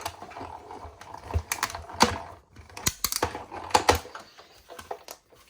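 A die-cutting machine feeds paper through a die with a stamping tool, producing close clicking, ratcheting mechanical sounds in uneven bursts, with quiet gaps between.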